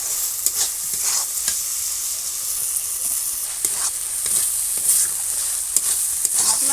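Spice masala with potatoes frying for a paneer curry, a steady bright sizzle with repeated scraping stirs of a spatula throughout, close and fairly loud, no talk.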